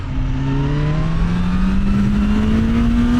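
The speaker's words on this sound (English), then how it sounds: "They really have nailed it with their inline-four engine BMW." A 2025 BMW S1000R Sport's inline-four motorcycle engine pulls hard under acceleration, its pitch climbing steadily as revs rise, loud and close with strong wind rush and no talking.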